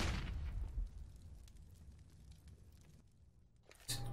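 A video game bomb goes off with a deep, loud boom at the start, its low rumble fading over a few seconds before another sharp burst at the end; no voices.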